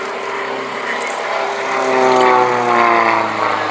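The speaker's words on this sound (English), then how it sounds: "the Silenced Twister is a small GRP aeroplane built by two brothers in Germany" A Silenced Twister, a small GRP propeller plane, drones overhead flying aerobatics at the 2015 East Kirkby Airshow, its engine pitch rising and falling steadily as it manoeuvres, fairly loud and close.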